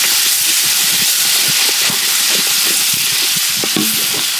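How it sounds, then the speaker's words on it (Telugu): Tomatoes go into a pan of frying onions and green chillies for mutton dum biryani, producing a loud, dense, continuous sizzle and hiss up close, with scattered crackles and pops and no talking. "ఇప్పుడైతే టమాటా వేసుకుందాం మాయా"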